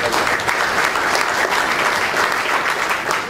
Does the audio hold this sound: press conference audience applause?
yes